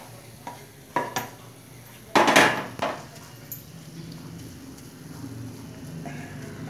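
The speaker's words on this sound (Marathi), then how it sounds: "आता हे मिश्रण 15-20 मिनिटं कंटिन्युअसली मीडियम फ्लेमवरती असंच परतायचं आहे" A mango ladoo mixture is stirred in a pan over a medium flame, with a few sharp scraping knocks of the spoon against the pan and a soft sizzle between strokes, close and alone.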